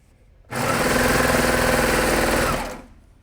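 A sewing machine runs in one steady burst of about two seconds, stitching the front and back of a jersey together, starting at the sleeve. It is loud and close, with no talk over it.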